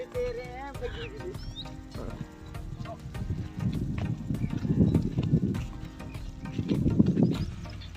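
Hooves of mares being led to a tree for training to pull a buggy, heard as irregular clip-clop steps with a brief whinny early on, fairly close, over outdoor background noise.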